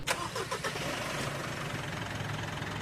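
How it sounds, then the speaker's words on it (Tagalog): A Mitsubishi Montero diesel engine cranks with a few quick starter pulses after a fuel filter replacement, then catches and settles into a steady, rumbling idle close by. "Pa-start ko na itong makina."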